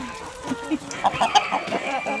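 Chickens clucking near a coop, several short close clucks and calls scattered over a quiet background.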